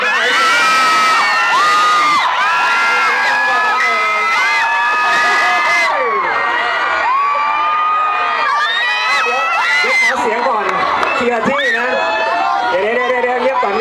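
A lively crowd cheers and shouts continuously, with children's high-pitched yells and whoops rising over the noisy, excited din.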